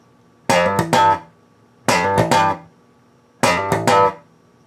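Three repeated bass guitar phrases, each a quick run of strummed and sharply popped notes separated by short silences, played cleanly with no voices.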